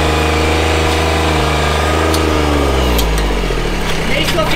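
Car engine running steadily during a driving lesson, its low drone shifting in pitch as revs change, loud and continuous with people talking over it.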